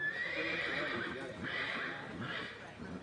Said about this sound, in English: That's a gorgeous horse right there.